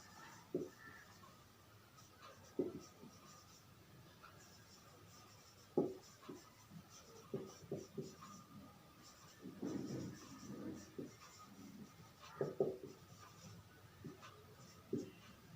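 A pen scratches out an example sentence on paper, producing faint, irregular strokes and taps up close in a quiet room.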